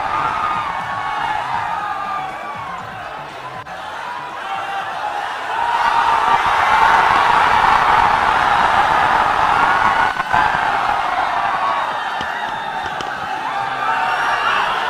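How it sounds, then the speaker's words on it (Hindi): A large crowd at a political rally welcomes Rahul Gandhi with sustained applause and cheering, a dense roar of clapping and whoops that swells louder partway through and carries on steadily. "एक बार तालियों के गड़गड़ाहट से स्वागत करें।"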